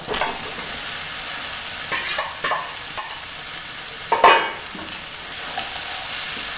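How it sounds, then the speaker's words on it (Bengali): Potatoes tossed into spice paste frying in oil for aloo dum, a steady loud sizzle broken by scraping stirs and clanks of a utensil against the pan, close, with no talking. "এবার আমি এর মধ্যে আলুগুলো দিয়ে দেবো"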